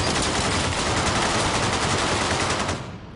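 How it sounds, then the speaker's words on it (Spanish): Gunfire erupts inside a bank in a film scene, a loud, continuous burst of rapid shots like a machine gun that fills the whole stretch before cutting off abruptly near the end. "Se registran más disparos al interior del banco."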